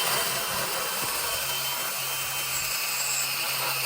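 A power drill bores holes through a steel cross brace bracket clamped in vice grips for a rolling barge bridge, a steady loud grinding whine running without pause throughout.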